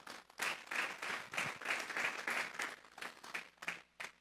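A church congregation applauds during a sermon, a faint but continuous patter of many hands clapping in uneven bursts that swell and fade.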